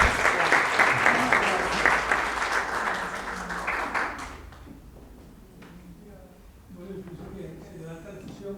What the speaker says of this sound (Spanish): un aplauso para ellas y para todos nosotros por haber estado presentes